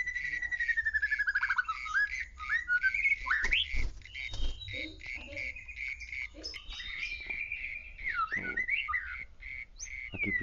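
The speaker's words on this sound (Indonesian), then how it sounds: "Lagi birahi ini, saya pancing dengan suara burung murai." White-rumped shama (murai batu) of the Bahorok strain, a breeding bird lured with recorded murai song, giving varied whistled calls and chirps, mixed with insect-like buzzing, fairly close and without talk.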